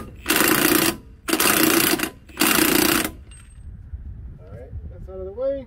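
Impact wrench with a 24 mm socket securing the lower nut on the front air suspension of a 2007-2012 Mercedes-Benz GL450: three loud, close bursts of rattling hammering about a second each, followed by quieter clinks and a brief voice.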